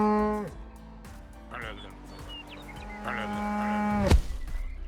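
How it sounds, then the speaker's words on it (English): A cow in a physics-based sandbox video game lows twice, long droning moos with a steady tone, followed by a sharp thud as it is flung from a trebuchet. "fire the cow."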